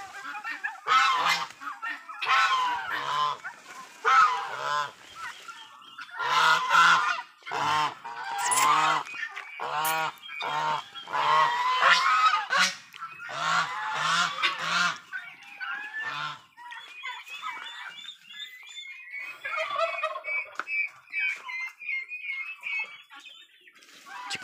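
Geese honk loudly and repeatedly close by, a noisy chorus of overlapping calls that later thins to softer, scattered honks.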